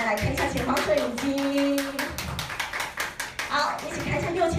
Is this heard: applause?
yes